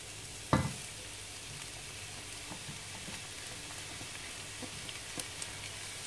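Sliced onions hit hot ghee with a sharp thump, then settle into a quiet, even sizzle. Faint stirring ticks sound now and then.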